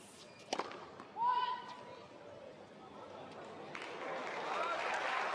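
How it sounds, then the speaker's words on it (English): Applause from a tennis crowd at the SM Krishna Tennis Stadium during the Bengaluru Open finals, a broad clapping wash building through the second half after a few sharp knocks and a brief voice early on. "I'm not sure why the crowd is clapping"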